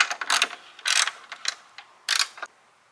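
A ratchet with a 5/16 socket works tail light bolts loose on a car, bursts of quick clicking come and go in short spurts, close and clear, with a pause between runs.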